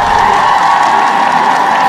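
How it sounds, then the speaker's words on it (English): A packed stadium crowd at a professional arm wrestling match roars and cheers in a dense, loud, continuous wash of voices, with no breaks. "the packed stadium continues to cheer these gladiators on"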